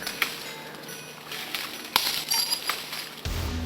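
A thrown glass bottle lands outdoors, giving a few sharp clinks and knocks over a few seconds against faint background noise.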